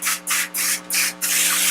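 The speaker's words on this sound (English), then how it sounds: "Just take yourself a little bit of whatever cooking spray you got on hand." Cooking spray hisses onto a foil pan in four short bursts followed by one longer continuous spray, close and fairly loud.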